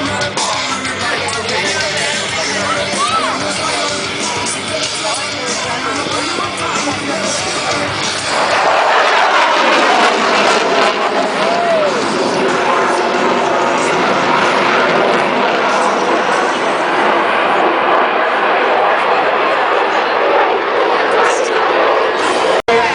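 An aircraft makes a high-speed pass at an airshow in Hawaii, its roar swelling suddenly into a loud, broad rush midway that holds steady, with a crowd and talk underneath.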